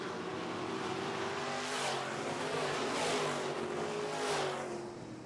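Midwest Modified race cars roaring around a dirt track, several engines rising and falling as they pass in waves, fairly distant and steady, no voices over them.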